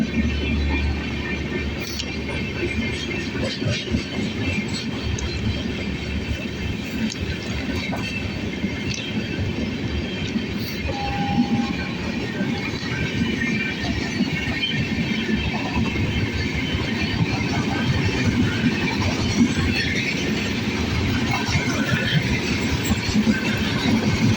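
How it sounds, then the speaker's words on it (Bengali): The Garib Rath Express runs from Katwa toward Kolkata, a loud continuous rumble of wheels with rhythmic clacking and occasional squeals, heard close and steady throughout with no talk. "এখান থেকে দেখতে পাচ্ছে গরিবরথ এক্সপ্রেস চলে যাচ্ছে কাটোয়া থেকে এটা কলকাতা যাবে"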